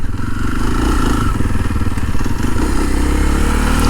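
Kawasaki KLX230 dual sport motorcycle engine running steadily up close, a continuous low rumble with mechanical clatter and no pauses, loud throughout the four seconds.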